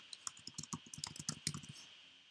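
Quick bursts of typing on a computer keyboard, keys clicking in an uneven rhythm for about two seconds, close and fairly quiet with no talk.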